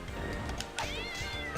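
A cat meows in Castlevania: Dawn of Sorrow, a short game sound effect with a rising, wavering cry over faint background game audio.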